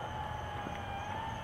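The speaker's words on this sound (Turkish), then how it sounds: "Duydunuz mu sirenleri? Siren sesleri." An emergency vehicle siren wails steadily at a distance on an American street, a sustained tone over low traffic rumble.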